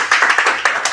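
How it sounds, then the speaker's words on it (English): Clapping at a student common room (JCR) meeting, a small group giving a short, uneven round of applause that sounds close and lasts about a second. "That's a round of applause"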